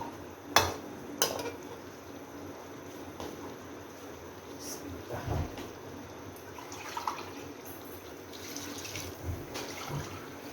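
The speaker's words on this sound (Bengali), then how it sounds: "ফুলকপিটাও কষানো হয়ে গেছে, এখন আমি ঝোল দিয়ে দেব।" Broth goes into a pot of cauliflower and fish curry: a few sharp metallic clinks of utensil on pot, then soft liquid pouring and stirring sounds, close and moderately quiet.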